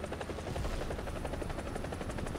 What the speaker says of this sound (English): Scary thing about choppers is that they can still spin that gun around after being considered dead.